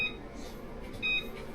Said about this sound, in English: we're going to put on a 15-minute timer